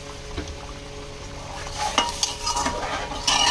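Rice for pulao being stirred in a pressure cooker: a spoon scrapes and clinks against the metal pot over a soft sizzle, with a few louder knocks toward the end.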